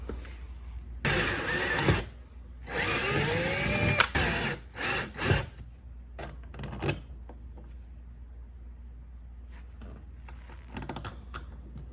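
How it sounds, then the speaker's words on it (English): A power drill whirs in several short bursts close by, drilling mounting holes for a Humminbird Helix fish finder, followed by lighter clicks and handling noises, with no talking. "I drill in the correct spots"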